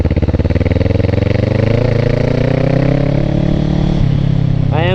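A motorcycle being ridden, its engine running loud and close with a steady throbbing drone that rises gradually in pitch as it accelerates, then shifts near the end.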